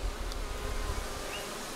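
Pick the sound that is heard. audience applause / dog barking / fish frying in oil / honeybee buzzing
honeybee buzzing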